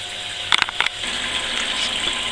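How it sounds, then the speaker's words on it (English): Wort running off during the sparge of a session NEIPA homebrew, a steady trickling and gushing flow of liquid with a few short knocks near the start. "leave this to sparge and run off for the next 10-15 minutes"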